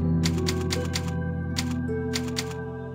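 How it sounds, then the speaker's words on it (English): Rapid typewriter keystrokes clatter in quick bursts over a steady background music bed at the typewriter save point in Resident Evil 4, a video game, with pauses between flurries of strikes. "Leon just puts on his reading glasses and starts like typing out his whole life work and everything."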